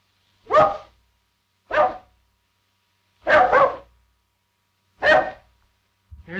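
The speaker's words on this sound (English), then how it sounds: "Here's that bark again." A dog inside a house barks five times at uneven intervals, each a short, fairly loud, close bark, with one doubled bark in the middle and silence between.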